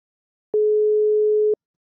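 A single ring of an unanswered telephone call in a racing game phone-call sequence: one steady pure electronic tone lasting about a second, clean and loud, starting and stopping abruptly between silences.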